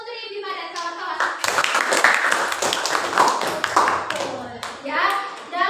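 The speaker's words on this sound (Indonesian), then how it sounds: "tepuk tangan untuk Putri Bima dan kawan-kawan" Classroom applause for Putri Bima and friends during an Islamic lesson on sajdah verses, with steady dense hand clapping across most of the clip and children's voices mixed in.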